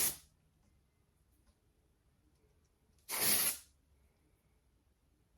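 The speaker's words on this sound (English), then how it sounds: "And you just spray your hair." Two short bursts of hairspray hiss close by as it is sprayed onto hair, a few seconds apart, with quiet in between.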